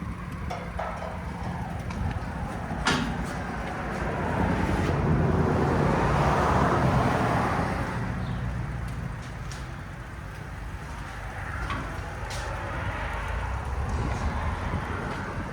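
A 2011 Nissan Altima SR with a 3.5L V6, high-flow cat and Borla S-Type exhaust drives along, a steady low engine and exhaust drone with road and wind noise, swelling midway, with occasional clicks and no talk.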